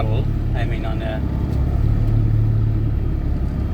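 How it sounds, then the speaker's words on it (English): Inside the cab of a heavy 42-ton truck waiting at the bottom of a hill, the diesel engine idles in a loud, steady low rumble, with people talking over it. "We always have to start on idle."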